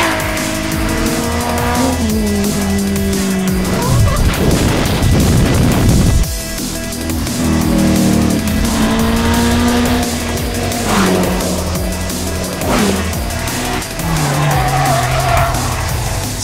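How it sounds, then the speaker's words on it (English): Drift cars at Snetterton Circuit roar with high revving engines and long screeching tire squeals, including a loud dense burst of skidding midway, continuous and close. "We've got the most amazing drift cars with Mad Mike and Frederick Asbo."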